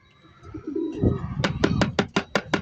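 Racing pigeons coo in a short series of close, repeated calls outdoors, the rhythmic bursts following a softer rustling start.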